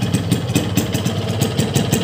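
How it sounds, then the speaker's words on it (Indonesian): A two-stroke motorcycle fitted with an LRF Pro Street racing exhaust, running on local two-stroke side oil, idles steadily nearby with a rhythmic, burbling low pulse and no talking. "suara mesinnya dia mirip kayak ini ya mirip kayak gasoli teman-teman"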